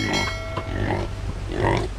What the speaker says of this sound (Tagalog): alaga po tayo ng baboy